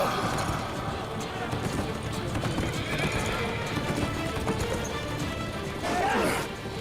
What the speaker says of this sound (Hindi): छोड़ दो घोड़े।